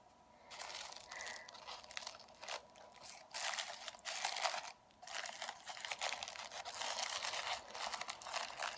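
Scissors cut through duct tape in a series of quiet, crinkling snips and tearing rasps, close by and fairly soft, with brief pauses between cuts.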